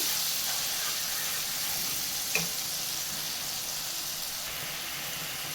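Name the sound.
masala sautéing in oil in a pan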